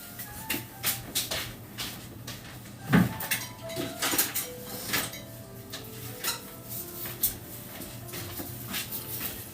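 Metal baking pans and pots clatter and clank in a home kitchen as a pan is pulled out for sugar cookies, with a busy run of close, irregular knocks and scrapes.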